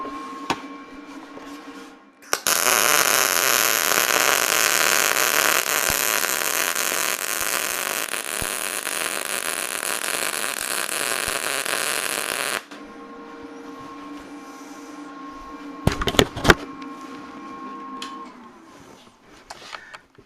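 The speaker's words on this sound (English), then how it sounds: "So I'll just switch on the welder here" A gas-shielded welder runs in a long, steady, loud crackling hiss lasting about ten seconds, then cuts off, leaving a faint hum with a few sharp clicks and clatters near the end.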